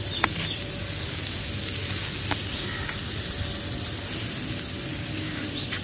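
Chopped onion frying with mustard seeds in a toy miniature pan gives a steady, close, dense sizzle and hiss with occasional tiny pops and crackles, continuous throughout with no talking.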